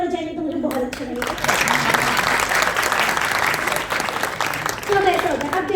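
An audience at a Hindi poetry gathering, a kavi sammelan, breaks into sustained, dense applause that stays loud and steady, with a voice briefly heard near the start.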